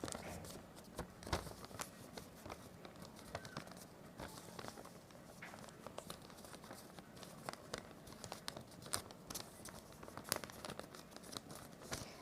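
A sheet of paper being folded and creased into a square, giving soft, quiet crinkles and scattered crisp rustles throughout, with no talking.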